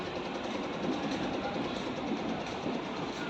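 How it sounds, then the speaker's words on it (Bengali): The NJP–Digha train rolls out of Kishanganj station with a continuous rumble and faint rhythmic clatter of wheels on rail. It carries on steadily throughout the clip, heard from the platform. "এই ট্রেনটি যাচ্ছে"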